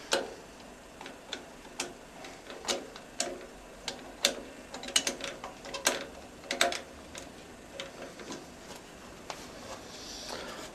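A Supernova lathe chuck is loosened with a chuck key, giving a run of light metallic clicks and ticks in uneven rhythm, close and fairly quiet.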